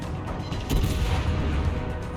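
Naval gunfire from a Des Moines cruiser in World of Warships ranked battles: one heavy, loud broadband blast lands about a third of the way in, over a steady rumble of sea and engine noise, with no talk.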